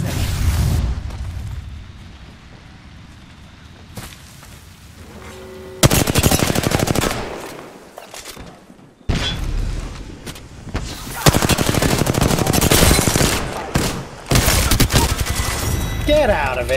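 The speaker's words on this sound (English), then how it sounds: "Thermite grenade set." Apex Legends match with a thermite grenade and heavy gunfire: loud bursts of automatic fire and impacts come in waves, with quieter gaps between them and game voice lines mixed in.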